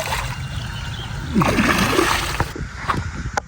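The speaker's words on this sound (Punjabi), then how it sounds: "ਤੇ ਲੋ ਜੀ ਆਪਣਾ ਆਹ ਕਿਆਰੇ ਨੂੰ ਲੱਗ ਰਿਹਾ ਪਾਣੀ।" Irrigation water splashes and sloshes as it pours into a small field plot. The flow is close and continuous, with a few uneven gurgles and low rumbles.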